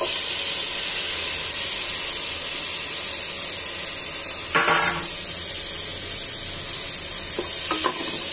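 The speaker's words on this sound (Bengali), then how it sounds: "এখন আমি আমার এই যে কুটে রাখা অল্প মাংসটা দিয়ে দিচ্ছি।" Chopped meat sizzles with spiced vegetables in a Bangladeshi mixed-veg dish, a constant loud hiss with a couple of brief scrapes of a spoon stirring the pan near the end.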